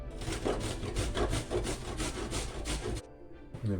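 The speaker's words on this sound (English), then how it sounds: "you can either chop up your fruit and vegetable, or you can put it through a quick grate" Fruit and vegetables are rubbed across a hand grater for a homemade protein shake, giving a run of rapid, rhythmic rasping strokes close by that stop abruptly near the end, with no one speaking.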